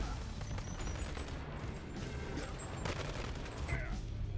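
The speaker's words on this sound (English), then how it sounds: "You're shooting me through it." Dense gunfire in the VR shooter Bonelab, a sustained fusillade of rapid shots and crashes on a custom map, loud and continuous with faint voices mixed in.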